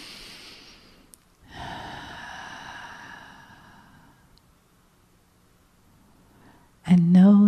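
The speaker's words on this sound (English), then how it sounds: "And take another breath." Deep breath drawn in and slowly released during a guided meditation, a soft airy inhale-exhale swell near the mic, followed by a brief louder voiced sound at the end.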